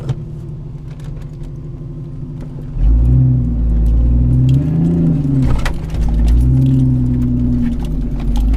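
A 5-speed Jeep Cherokee off-road, engine revving while the clutch slips, a loud low rumbling drone that rises and holds at high revs, with faint rattles over it.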